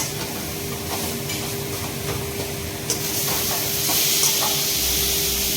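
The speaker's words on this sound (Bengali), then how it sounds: "এবার ঢেঁড়স ভাজা হচ্ছে বাবা করছে আর ওদিকে মনিমা নারকেল ভাজা করছে" Okra and coconut pieces frying in hot oil in a Bengali home kitchen, a steady loud sizzling hiss that swells slightly toward the end.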